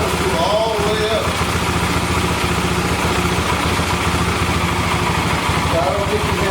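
A 1991 Yamaha XT 350 dirt bike engine idles steadily with a low, even thumping pulse, loud and close, while voices talk over it.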